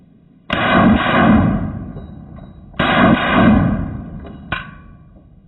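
Three loud rifle shots from a .223/5.56 rifle fitted with a drop-in, skeletonized, match-grade 3 lb trigger, fired at an outdoor range. Two heavy blasts with long rumbling tails come about two seconds apart, followed by a sharper third crack.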